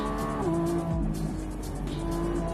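A Lamborghini Revuelto V12 hybrid drives hard on a race track, engine loud and close with pitch shifting as it changes gear through a corner.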